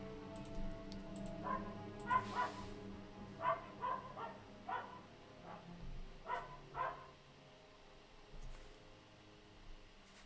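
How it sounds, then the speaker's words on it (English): A dog barks outside beyond an open window on a hot day, a series of distant, fairly faint barks in loose bursts over a steady background hum. "I would close the window so you can't hear that dog barking"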